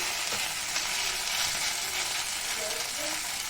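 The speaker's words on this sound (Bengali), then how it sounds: "এটাকেও ভেজে কিন্তু খুব সুন্দর করে তুলে নিচ্ছি" Tiffin snacks frying in hot oil in a home kitchen, a steady close sizzle holding level throughout with faint stirring clinks and no voices.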